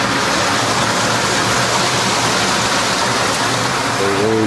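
Fresh water pouring steadily into the tank of a Heinzen HMI Model 2415 Short Order turbulent-flow leafy greens washer, a loud, unbroken rushing splash with a faint mechanical hum beneath.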